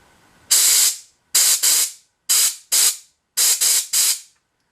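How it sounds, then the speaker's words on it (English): Compressed air blasts through a generator carburetor in seven sharp, loud hissing bursts, some coming in quick pairs and triples, each cutting off abruptly into near silence. "Take an air compressor and blow through there."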